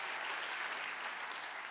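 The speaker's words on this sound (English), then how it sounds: "you can cheer for that" A church congregation cheers and applauds during a morning service, a steady dense wash of clapping with no breaks and no voices rising above it.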